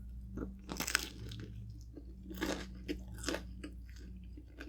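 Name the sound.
chewing Little Caesars pizza bacon edge crust with crazy sauce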